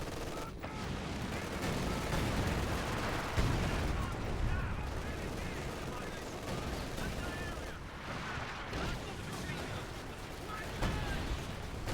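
A sustained artillery barrage pounds away in Company of Heroes 2, a dense, continuous roar of overlapping blasts and rumbles for the full twelve seconds, with a voice speaking over part of it.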